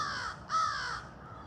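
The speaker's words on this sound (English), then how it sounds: "Those crows still chirp" Crows cawing, a pair of harsh caws in quick succession, moderately close and standing alone without talk.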